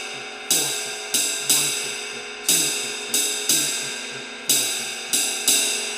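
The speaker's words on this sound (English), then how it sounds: "what the jazz ride pattern has is skip beats played on the 3rd beat of the" A jazz ride cymbal on a drum kit plays a swung pattern with skip beats, its bright pings arriving in pairs and singles, each washing out before the next, played alone and up close.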